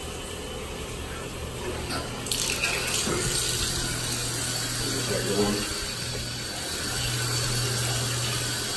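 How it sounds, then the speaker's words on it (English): Water runs steadily from a bathroom tap in a duplex home for sale, a continuous hiss with brief clatters partway through and a low hum beneath. "Water is on."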